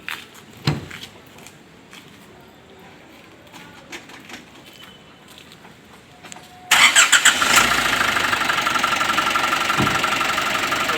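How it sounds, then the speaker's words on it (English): An Isuzu D-Max pickup engine cranks and catches with a sudden start, then settles into a steady, even idle nearby after a few seconds of quiet handling noises. "I'm gonna even start the engine so that you can hear the noise of the engine"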